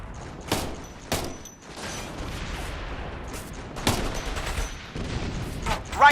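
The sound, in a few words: gunfire in Operation Flashpoint: Red River video game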